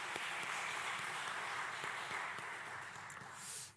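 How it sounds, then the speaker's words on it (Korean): A church congregation claps steadily and densely at a Wednesday worship service at Jisan Church in Bucheon, applauding the praise team and a district group. The applause is close and sustained, then tapers slightly near the end with no talking. "우리 성숙 1구역 식구들과 또 우리 수요 경배 찬양팀 축복하고 격려하는 박수 하도록 하겠습니다."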